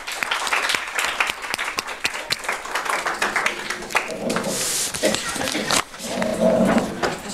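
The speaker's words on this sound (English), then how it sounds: "Åsa and Nina, a warm applause to you for this one" Warm audience applause at a public event on the global goals in Sweden, sustained dense clapping from many hands that rises and continues for several seconds, close and fairly loud with brief crowd noise.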